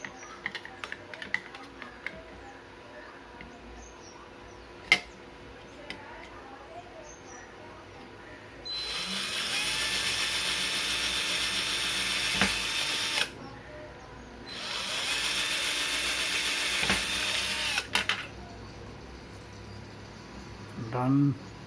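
A power drill bores holes for a homemade multimeter stand in two loud, steady bursts of several seconds each, with a short pause between them. Quiet clicks and handling noises come before and after.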